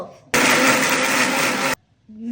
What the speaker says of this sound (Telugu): మిక్సీలో వేయాలి టొమాటో.